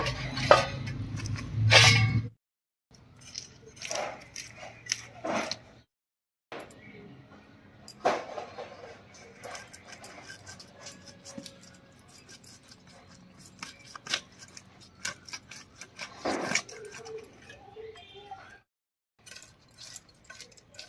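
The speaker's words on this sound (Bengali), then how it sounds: "মাছটা অনেক বড় আর আমাদের এই ছোট বটি দিয়ে কাটতে অসুবিধাই হচ্ছে।" A large rohu fish being cut with a small boti blade in a home kitchen, with scattered scraping, knocking and clinking at close range, broken by short pauses.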